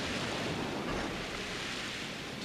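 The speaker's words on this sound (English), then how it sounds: "See these waves? they come out of the water" Ocean waves surging up out of the water in Paper Mario: The Thousand-Year Door, a steady, dense wash of surf noise that fills the whole moment without any break or speech.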